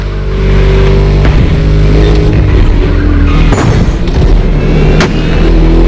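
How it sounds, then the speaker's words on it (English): A V8 car engine in The Crew racing game drones loudly and continuously, its deep throaty rumble swelling with revs and a few sharp bursts, with no talking. "Just listen to that V8 like a chonky, down-tuned guitar riff"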